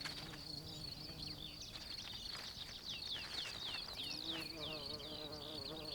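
A mason bee buzzes steadily and close, its high droning whine wavering in pitch as it moves about, with faint background noise.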